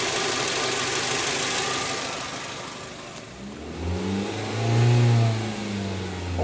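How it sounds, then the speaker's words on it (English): A car engine idles, then revs up to about 2500 RPM and holds there for a few seconds during a battery charging-system test, with a steady close engine drone and no talking. "Increase RPM to 2500 and keep it for 5 seconds."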